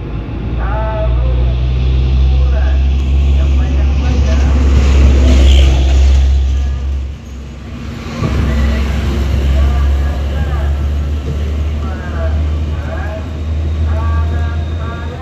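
A Palala bus nicknamed Mugello E14 pulls out of the Omega rest area parking lot, its heavy diesel engine giving a loud, steady low rumble that dips briefly midway while someone talks over it.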